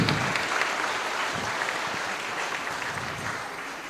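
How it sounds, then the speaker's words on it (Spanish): An audience breaks into strong applause, loud and close at first and then slowly thinning and fading over a few seconds. "fuerte aplauso para Caray Castor."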